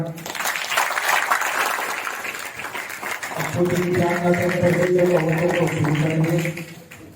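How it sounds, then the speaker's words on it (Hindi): Audience applause at a Christian gospel prayer meeting, a loud sustained wash of clapping for a few seconds that gives way to music and voices carrying on over its tail. "चलो प्रभु के जोरदार तालियां।"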